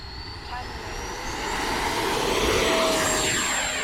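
An X-fly Sirius 80mm RC sport jet's ducted fan spools up on grass for a hop attempt, a steady loud rushing whine that swells gradually and holds.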